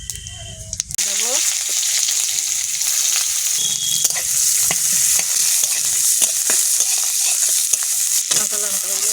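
Panch phoron spices hit hot oil in a wok with a sudden loud sizzle that continues as a steady, close frying hiss with stirring clatter.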